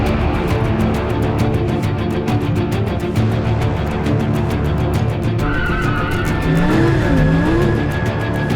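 A Lamborghini Huracán LP 610-4 brakes hard with a loud, close engine roar, and a thin, sustained tire squeal rises partway through and holds to the end.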